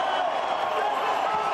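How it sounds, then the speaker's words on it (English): A large crowd cheers and applauds in a steady, dense wash for team boss Gunther Steiner at a 2022 Formula One qualifying session in São Paulo, sustained throughout without a break. "he's getting a huge cheer from the crowd"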